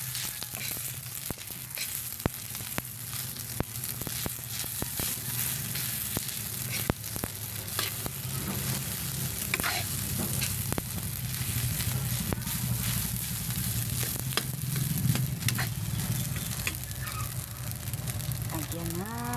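Fried rice stir-frying in a pan, a steady close sizzle with scraping stirs and clicks of a utensil against the metal throughout, under a voice talking.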